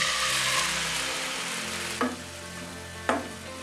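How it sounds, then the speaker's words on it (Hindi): Milk pours into roasted coconut in a hot pan and is stirred, a loud steady sizzle with two sharp spoon knocks against the pan and no talking. "चलिए अब इसमें मिल्क ऐड कर देते हैं।"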